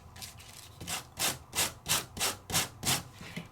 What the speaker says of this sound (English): Well, actually, I sanded right through it.